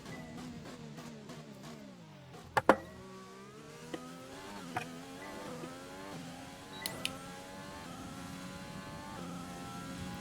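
Formula 1 race car accelerating through the Austria circuit in the F1 2020 video game, a high, buzzing engine note climbing steadily through gears with brief clicks and shifts, sustained and fairly close without voices.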